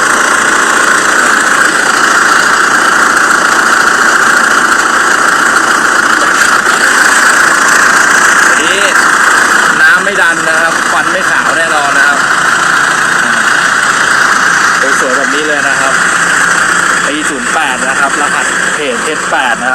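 Isuzu 2.5 diesel pickup, a 2008 SLX, idling steadily with the engine bay open, a continuous close rumble running throughout while someone talks over it.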